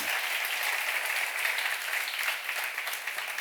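A congregation claps together at a church seminar, a steady dense wash of many hands that holds evenly for a few seconds with no voices over it.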